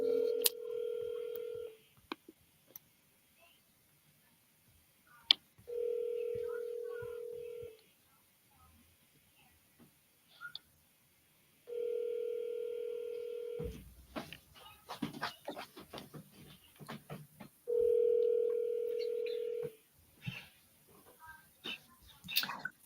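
A phone call to a real estate seller lead rings out as four long, evenly spaced ringback tones, with brief dialing beeps and faint clicks in the quiet gaps between them.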